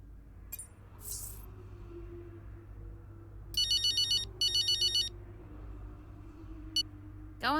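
A phone rings in the racing game F1 23: two short bursts of bright electronic trilling over a low steady hum, with a few faint clicks before and after.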